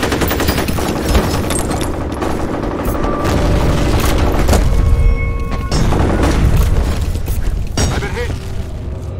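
Heavy gunfire and explosions in the F.E.A.R. combat video game, dense continuous bursts of automatic fire with booming blasts, loud and close throughout, with game voice callouts mixed in.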